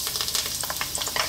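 Garlic sizzles in hot olive oil for a Filipino sardine dish, giving a brief, close burst of crackling hiss and spitting pops.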